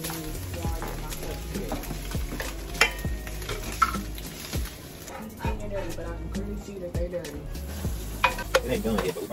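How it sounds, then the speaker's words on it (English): Bacon frying in a pan sizzles with a constant crackly hiss, accompanied by utensil clinks and stirring scrapes, while people talk over it. "Dang, bacon sizzling."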